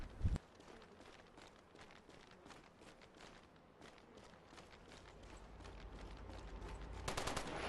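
Rapid bursts of automatic gunfire from the MAG first-person shooter, fired while circle strafing in a training ground. The shots crackle in quick, continuous strings and grow denser and louder toward the end, with no voices.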